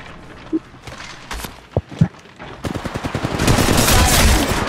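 Gunfire from the mobile battle royale shooter Apex Legends Mobile: a few separate shots early on, then a dense, loud burst of rapid automatic fire that builds and keeps going to the end.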